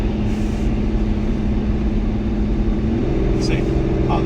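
A pickup truck hauling cars at about 65 mph on the highway downshifts as the driver brakes, its steady engine drone shifting pitch near the end as it catches the lower gear.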